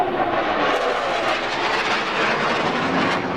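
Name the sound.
jet aircraft flying overhead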